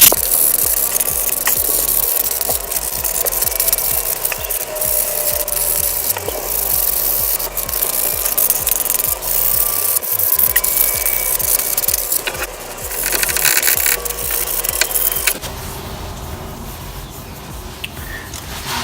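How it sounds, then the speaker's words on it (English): Steady back-and-forth rasping of hand sanding on a hard brake caliper surface, rhythmic strokes continuing for several seconds before a brief scratchy ending. "just gonna do some sanding here"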